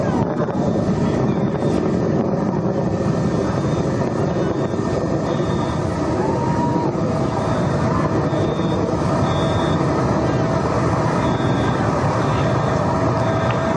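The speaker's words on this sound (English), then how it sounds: "Engine back up to full throttle." A continuous, steady roar of a Blue Origin rocket engine at full throttle during ascent, loud and broadband without letup, with a faint tone running through it.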